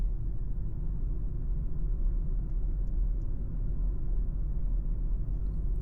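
A car pulling out slowly during a driving lesson near Rungis, heard from inside as a steady low engine and road rumble, even and continuous throughout.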